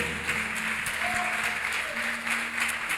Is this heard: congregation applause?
yes